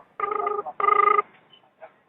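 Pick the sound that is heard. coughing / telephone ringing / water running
telephone ringing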